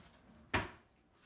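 A drawer being opened indoors makes a single brief, faint wooden knock or slide in a quiet room, with no speech.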